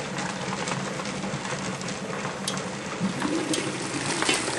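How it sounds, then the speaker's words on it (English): Water at a full rolling boil in a canner for preserving lemon curd churns and bubbles in a dense, continuous rumbling roar with fine crackling bursts, steady and close. "now you can see that I'm at a full rolling boil"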